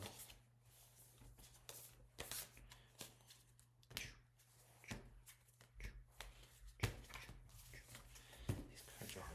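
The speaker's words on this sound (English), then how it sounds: "These cards are hard to shuffle, so I think I like doing it kind of this funky little weird way." Tarot cards are shuffled by hand in soft irregular slides and taps, quiet and close, over a steady low hum.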